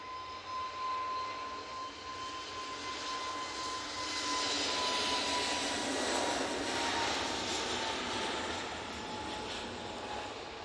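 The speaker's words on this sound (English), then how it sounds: "Oh, EasyJet now on the roll." An EasyJet jet airliner takes off at Manchester Airport, its engine roar swelling from moderate to fuller midway with a steady high whine, heard at some distance and without talk.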